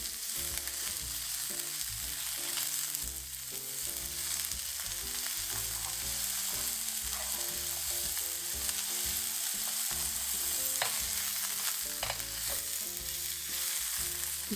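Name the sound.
shrimp frying in a pan for banh xeo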